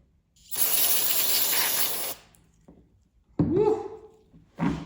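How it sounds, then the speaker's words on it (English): A loud, steady hiss of an aerosol spray onto a cloth-like filter lasting about two seconds, followed by faint rustling and a brief voice. "Let's give this a good spray."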